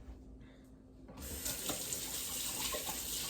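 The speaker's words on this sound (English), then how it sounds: "I'm gonna wash my hands again." Water runs steadily from a kitchen tap for hand washing during meatloaf preparation, starting abruptly about a second in as a broad, close hiss that continues to the end with no talking.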